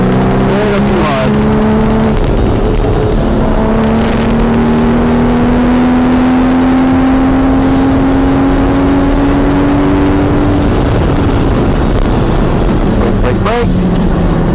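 A Porsche 981 GT4 lapping a race track on a track day, its engine loud and close as it revs up and down through the gears, with tyre noise and occasional talk inside the car.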